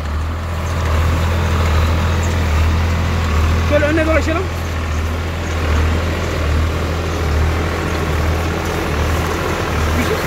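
A New Holland TT55 Junior 55-horsepower tractor with a tin cab idles steadily at close range, its low diesel rumble continuous beneath someone talking.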